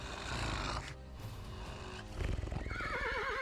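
A startled horse whinnies loudly in a wavering neigh near the end, with heavy hoof clatter and snorting before it, close and alone with no talk.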